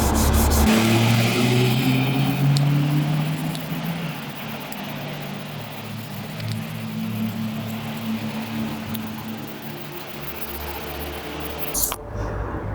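Fine P1500 wet sandpaper is worked over a plastic BMW X5 interior door handle under water, producing a continuous close rubbing hiss with a brief louder scuff near the end and no voices.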